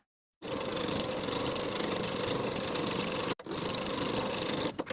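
A sewing machine runs steadily while stitching knit pocket pieces together, a continuous motor whir that starts abruptly, cuts out briefly for a moment, then resumes until near the end.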